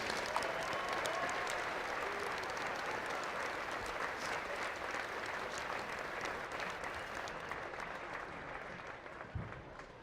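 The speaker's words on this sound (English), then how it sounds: "let's give a big round of applause for our scouts and their leaders" A crowd at a 2018 Fiesta Days flag retirement ceremony applauds scouts and their leaders, a steady dense patter of clapping from many hands that holds for several seconds before thinning slightly at the end.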